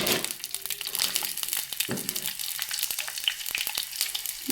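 Steady crackling sizzle of ginger in hot oil with a little water boiling off, close and continuous, with a few sharp clinks and stirring knocks over it.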